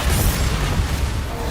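Explosive blast of the Bombarda spell in the Hogwarts Legacy video game, a loud, continuous rumbling boom that holds for the whole moment with no speech over it.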